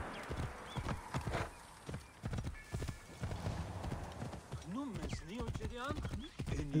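A horse galloping in the video game Assassin's Creed Origins, with rapid rhythmic hoofbeats and a whinny, under game music and voices talking over it.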